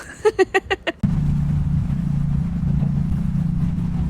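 After a few short spoken bursts, a Harley-Davidson Nightster Special motorcycle's engine suddenly roars up loud and close while overtaking on an island road, holding a steady, throaty low drone to the end.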